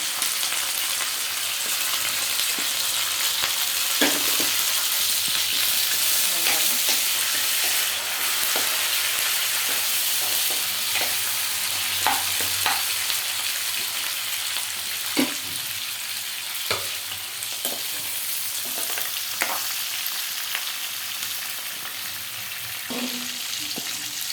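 Chopped green chillies, curry leaves and pepper frying in hot oil for upma, a loud, continuous crackling sizzle with occasional scraping stirs and spatula taps throughout, no voices.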